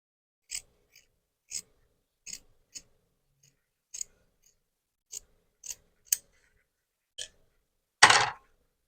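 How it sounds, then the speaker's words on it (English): Sharp scissor snips close up, about ten separate cuts spaced irregularly with silence between, ending in one longer, louder crunchy cut, as sewing shears trim a fabric seam allowance right beside the stitching on a corset dress. "I'm going to be trimming this out so close to the stitch but not through"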